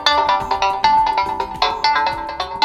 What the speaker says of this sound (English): So when we switch the ringtone right now